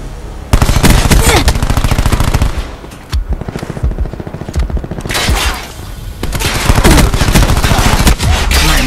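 Rapid automatic gunfire from Call of Duty Black Ops 4 during a Team Deathmatch match, long loud bursts of shots with brief gaps and booming impacts in between.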